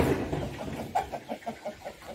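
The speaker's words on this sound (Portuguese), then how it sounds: "As galinhas tá ali, que nesse calor elas ficam." Chickens cluck in a farmyard on a hot day, with a run of short, evenly spaced clucks at moderate distance, faint and alone.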